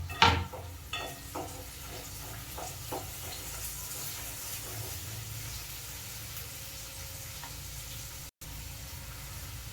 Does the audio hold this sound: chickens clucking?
no